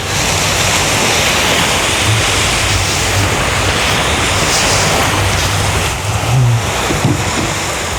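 Ocean waves wash continuously onto a beach on Nusa Penida, a loud full roar of surf with some wind rumble across the microphone.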